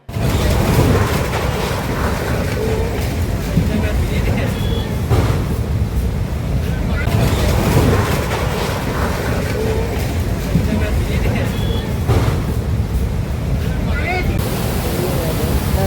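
A flooding mountain river in Manali rushes past, a loud, constant roar of churning water filling the scene without pause.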